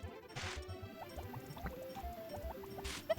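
Watering crops in Harvest Moon: Back to Nature, a run of short splashy liquid pours repeating in quick rhythm alongside soft chiptune notes, fairly quiet and without talk.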